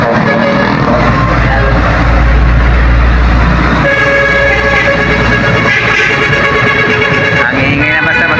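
Loud horns blare from trucks on a busy road, sustained tones sounding over a heavy rumbling traffic roar that stays close and intense throughout.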